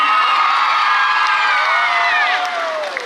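A Marathi cultural-program audience claps and cheers loudly as a young child is welcomed to the stage, a dense wash of applause and shouts with excited children's voices, holding steady and easing slightly near the end.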